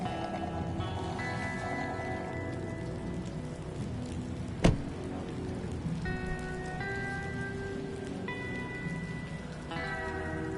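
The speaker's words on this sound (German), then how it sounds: "Jetzt regnet es bei denen genauso wie bei uns." Steady rain falling in the Batman video game The Enemy Within, a constant hiss of rainfall with a single sharp hit midway and soft musical tones over it.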